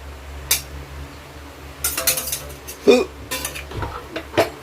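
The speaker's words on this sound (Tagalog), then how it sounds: "Haluin nating mabuti. Kailangan nating gumamit ng 2 sandok." Two ladles scrape and clatter against a pan while stirring sautéed banana heart with bihon noodles, giving irregular metallic clinks and knocks, close and fairly loud over a steady background hum.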